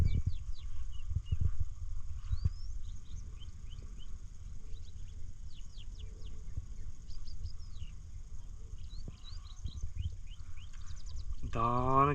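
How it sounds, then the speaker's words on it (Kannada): Birds in the forest of Kodachadri chirping at a distance, scattered quick high calls throughout, with low rumbling background noise and a louder, sweeping call near the end. "ನೋಡಿ, ಹಕ್ಕಿಗಳ ಚಿಲಿಪಿಲಿ."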